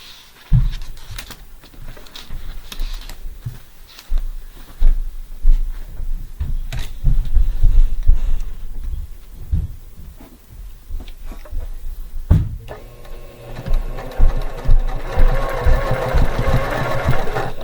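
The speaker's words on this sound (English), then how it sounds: "Now I'm going to sew it all the way around." A sewing machine stitches around the edge of a book pillow, its motor whirring in stop-and-start runs with steady needle clatter, close and fairly loud, with no talk over it.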